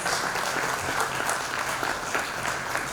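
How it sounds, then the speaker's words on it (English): An audience at a women-in-fintech forum claps steadily throughout, a dense, even round of applause that stays loud from start to finish. "Let's give her a resounding round of applause."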